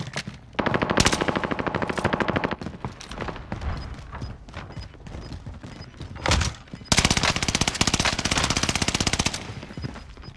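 Bursts of rapid automatic gunfire from a weapon in a first-person shooter game, loud and close, in several long volleys separated by short pauses.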